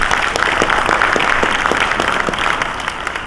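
A conference audience breaks into applause, a dense wash of many hands with a few sharper individual claps. It is loud and steady and fades slightly toward the end, with no talking.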